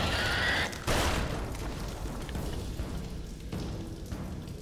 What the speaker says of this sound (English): Okay, he's gonna explode too.